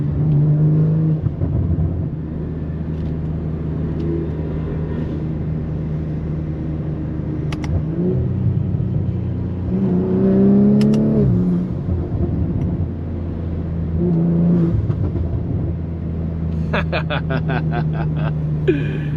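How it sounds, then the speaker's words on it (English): Inside a Gen 3 BMW M340i on a rainy late-night drive, the engine holds a steady low drone and rises in a few revs. Crackling exhaust pops come near the end. "You gotta give him a good burble in the air."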